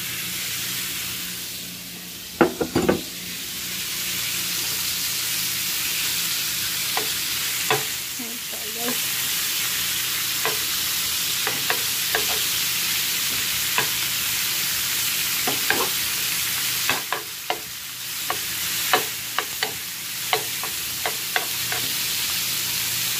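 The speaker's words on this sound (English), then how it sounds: "I added another tablespoon of butter, put potatoes separate, and now let's add the steak" Steak frying in butter in a pan, a continuous loud close sizzle with scattered sharp clicks of stirring and turning, no talk.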